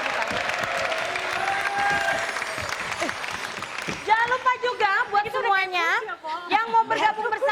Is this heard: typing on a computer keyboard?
no